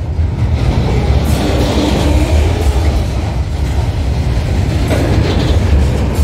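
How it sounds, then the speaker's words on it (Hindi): Goods train running on a new dedicated freight corridor line near a railway station, a loud continuous rumble of wheels and wagons rolling past close by, steady throughout with faint rhythmic clatter. "ये पूरी गुड्स ट्रेन जा रही है नए DFCCIL लाइन के ऊपर।"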